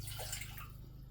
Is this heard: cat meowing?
no